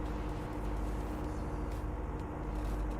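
A Scout truck engine in the TruckersMP driving game drones steadily and loudly, a continuous low rumble with no pauses and no voices.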